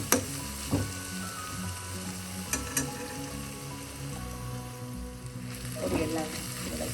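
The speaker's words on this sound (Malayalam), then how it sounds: "ഈ പൊടിയെല്ലാം ഓയിലൊന്ന് മൂപ്പിച്ചെടുക്കാം." Ground roasted coriander and garam masala sizzle in hot oil for a Kerala chicken curry, a steady close frying hiss with a few clinks of stirring.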